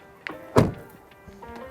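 A 2023 Lexus ES car door swings shut with one solid, muffled thunk, preceded by a light click of the latch, in a quiet setting.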